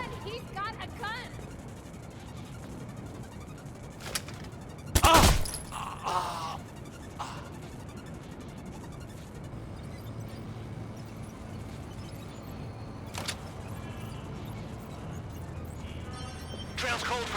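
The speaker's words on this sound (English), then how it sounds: "A gun! He's got a gun!" Gunfire in the Watch Dogs 2 video game: one loud, close shot stands out among scattered thumps and clicks, with voices talking through the scene.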